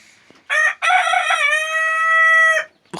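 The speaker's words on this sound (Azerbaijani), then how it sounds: "Xoruz da günün hər 24 saatda banlayır." A rooster crows close by on a farm, one full cock-a-doodle-doo with a short opening note and a long, loud, sustained call that cuts off abruptly, heard alone with no talking.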